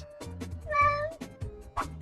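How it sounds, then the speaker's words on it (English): A cat meows several times in short, clear, close calls, one longer drawn-out meow in the middle, with no talking. "It's a cat."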